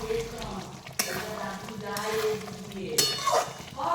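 Paneer pieces sizzle and fry in a pan over lowered heat, a steady close crackle with sharp clinks of a utensil against the pan near the start and again later.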